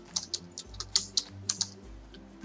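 Keyboard typing while designing a portfolio cover in Canva, about a dozen crisp, close keystrokes in an uneven rhythm with no talking.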